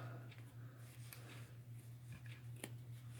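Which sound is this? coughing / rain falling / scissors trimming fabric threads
scissors trimming fabric threads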